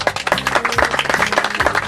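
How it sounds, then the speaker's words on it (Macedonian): Loud, dense crowd clapping breaks out at the third national exhibition of the Macedonian shepherd dog karaman, a short burst of applause with a tonal sound underneath. "Еден аплауз."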